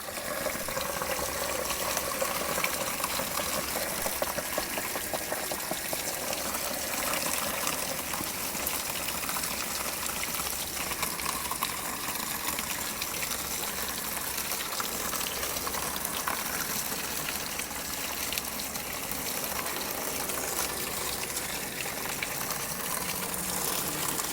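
Water gushes from an opened plumbing valve on a Sabre fifth wheel RV being winterized, with calcium flushing out; a steady, fairly faint broadband rush flows continuously with no talk.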